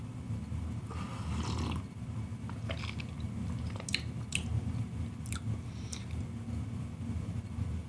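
Close-up crunching and chewing of a crunchy chocolate, strawberry and caramel cereal mix from Batman and Superman cereals, with several sharp crackly bites over a muffled, steady chewing rumble. No talk.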